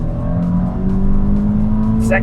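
A Volkswagen MK6 GTI engine with a Stage 1 ECU tune roars steadily as it accelerates through the gears, a voice talking over the constant revving drone.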